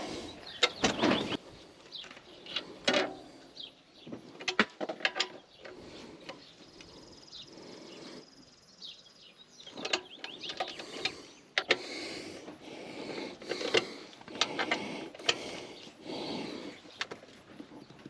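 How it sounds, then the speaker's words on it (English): A socket Allen wrench tightens the seat bolts on a Royal Enfield Meteor 350 motorcycle, giving quiet, intermittent bursts of ratcheting clicks separated by short pauses, close by with no talking. "I'm going to tighten them up with the socket Allen wrench."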